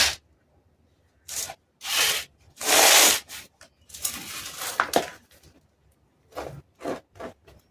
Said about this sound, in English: Now I have to mix up all these materials together.